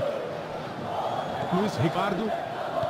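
Simulated stadium crowd from PES 2019 football, Palmeiras versus Ponte Preta in the Campeonato Paulista, a steady roar of cheering that swells briefly under excited commentary from a voice talking throughout.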